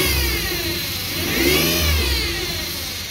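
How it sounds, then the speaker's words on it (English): A 2010 Ford Explorer engine revs up and settles back, a close, loud rise and fall of engine pitch over a steady whirring drone, with no voices. "And I'm gonna give it a rev also."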